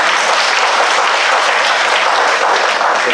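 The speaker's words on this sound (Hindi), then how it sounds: "आइए ताली बजा के परमेश्वर की" A church congregation at a Sunday morning service breaks into loud, sustained applause, a dense wash of clapping that stays steady and close from start to finish with no voices rising above it.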